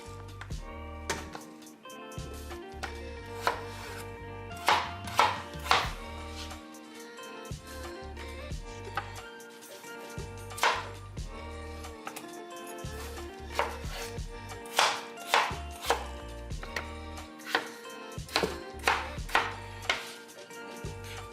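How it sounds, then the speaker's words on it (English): A knife chops through Yukon Gold potatoes on a cutting board, giving repeated sharp, close knocks in an uneven rhythm with clusters of quick strikes and short pauses, plus faint kitchen clatter behind. "My slicing game's gonna be on point."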